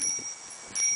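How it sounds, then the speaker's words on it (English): A child rings a bicycle bell on a bike, giving a bright high ring near the start and again near the end, close and moderately loud, with no talking. "Ben's busy ringing the bell."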